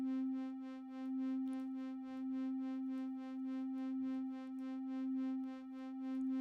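An evolving synth pad built in Reaktor with chorus and reverb holds one steady sustained tone, rich in overtones, with a slow gentle swell and shimmer, alone and fairly quiet.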